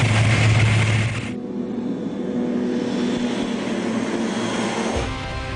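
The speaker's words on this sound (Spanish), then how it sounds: "Allá vamos, a despegar." A crop-dusting airplane used for spraying fertilizer takes off, its engine droning steadily with a tonal hum after a louder, rougher opening burst, holding fairly close and even throughout.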